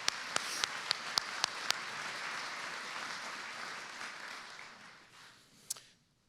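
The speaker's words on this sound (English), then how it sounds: "could we please give Deborah a round of applause?" An awards ceremony audience breaks into applause, a few sharp claps ringing out first before a full, even wash of clapping that fades away, with one last lone clap near the end.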